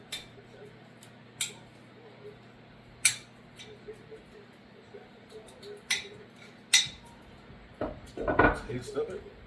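Pepper, rosemary and thyme being mashed for a smoked prime rib rub, a series of sharp separate knocks and taps spaced a second or two apart, then a brief rougher grinding burst near the end, with quiet talking.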